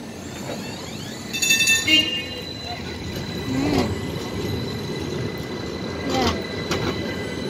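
A Milan tram pulls in on the line to San Siro Stadium, its wheels squealing briefly on the rails over a steady rumble of street noise, with a few fainter squeals later.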